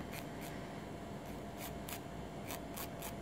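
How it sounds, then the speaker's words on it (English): Rhythmic rasping strokes, close and steady, a short nail file scraping downward in quick repeated passes to file off excess nail wrap. "you're going to do filing in a downward motion to file off the excess wrap"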